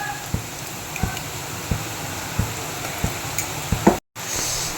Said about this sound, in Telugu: మంచి అరోమా వచ్చేంత వరకు వేయించుకోవాలి